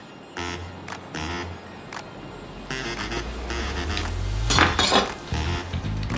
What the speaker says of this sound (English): And cut some fairly thin slices